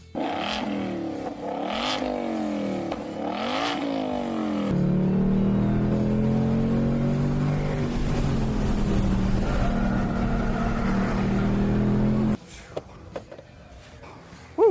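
A Ford Mustang Dark Horse is driven fast around a road course, its engine revving loudly and rising and falling through gear changes, then dropping off abruptly near the end.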